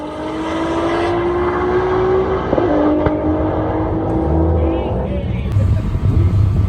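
Toyota Supra drag racing a TIC Performance Camaro, a loud sustained engine drone rising steadily in pitch through the gears, with a shift break midway and crowd or track noise underneath.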